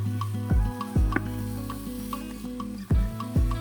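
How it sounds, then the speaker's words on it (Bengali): Vegetable stalks and potatoes sauté in a hot pan, a continuous sizzle broken by a few sharp spatula scrapes and stirs, close by. "আমি ডাটা আলুটা দিয়ে দিচ্ছি"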